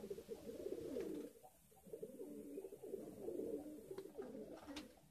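A pair of high flyer pigeons placed in a cage, cooing softly in repeated low, throaty phrases, faint and close.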